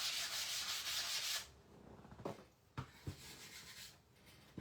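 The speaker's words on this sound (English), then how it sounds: "I'm going to sand over it one more time" Hand sanding with 80 grit sandpaper, a loud rasping scrub for over a second, then a quieter pause broken by several short separate strokes.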